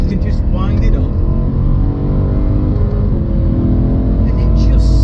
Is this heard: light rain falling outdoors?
no